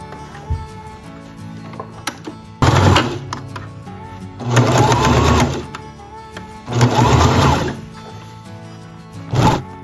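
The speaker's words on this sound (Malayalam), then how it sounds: "ഈ നല്ല വശത്തോടെ ഒന്ന് സ്റ്റിച്ച് ചെയ്തെടുക്കാം മൊത്തത്തിൽ." A sewing machine stitches around the neckline of a child's homewear garment in several close, loud bursts of whirring stitching, separated by quieter pauses with faint handling sounds.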